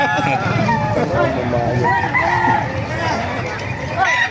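White Kelso gamefowl roosters crow and cluck at a busy chicken market in Baliuag, loud and close, while people talk throughout.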